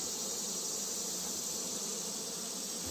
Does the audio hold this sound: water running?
no